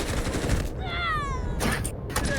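In the shooter game Delta Force, loud close automatic gunfire rattles in a rapid burst. A short pause carries a few tonal chirps, then more shots follow.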